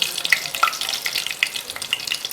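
Whole spices with cinnamon, cloves, cardamom, bay leaves and star anise frying in hot oil for a vegetable biryani, a close, bright crackling sizzle with scattered pops, no talk.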